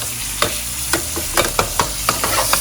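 A T-bone steak sizzles steadily in a hot pan as it is basted, with a run of sharp spoon or utensil clinks and scrapes repeating every half second or so over the constant frying hiss.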